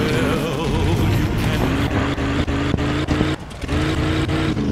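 A loud, rough car engine drones and revs unevenly with stuttering dips, close and continuous, a sports car in the video game Mafia 2 with faulty engine sound.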